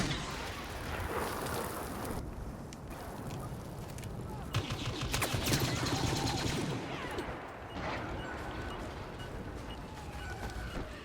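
Blaster and LMG fire in the Star Wars Battlefront beta rattles in dense, continuous bursts, loud and busy throughout, with heavier volleys near the middle.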